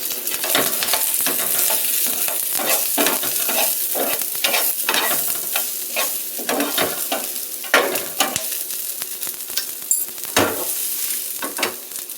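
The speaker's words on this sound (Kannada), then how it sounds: "ಈ ಥರ ಚೆನ್ನಾಗಿ ಫ್ರೈ ಆಗಬೇಕು" Ingredients for idli chutney frying in oil, a continuous loud crackling sizzle with constant spatter pops and occasional stirring clinks, close up and without talk.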